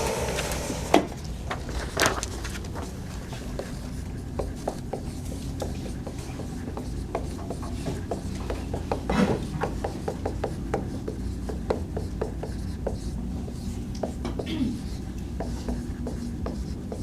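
Chalk or marker writing on a board during a university organic chemistry lecture: steady scratchy strokes and light taps in a roomy space, moderately quiet, with no talking.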